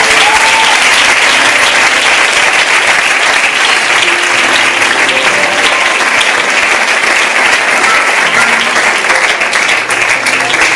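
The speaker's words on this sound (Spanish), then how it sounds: "Y todos juntos te damos un fuerte aplauso de agradecimiento." A church congregation at a youth gathering in Carlet applauds loudly and continuously, a dense, full roar of many hands clapping at close range with crowd noise mixed in.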